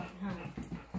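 A trained dog panting quickly at close range, short breathy puffs with a soft whimpering edge, while someone talks over it.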